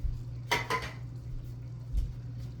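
Crushed tomatoes are stirred into a pot with a utensil, giving a couple of scraping clinks against the metal over a low steady hum, fairly quiet and close.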